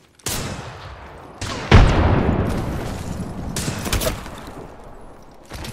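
Gunfire from the Apex Legends video game sounds as several loud, sharp bursts, some rapid and sustained with long reverberant tails, fairly close, with no talking.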